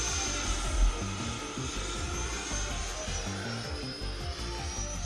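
A Horizon Hobby F-16 RC jet flies with a steady, airy whine and roar that holds at an even loudness throughout, without voices.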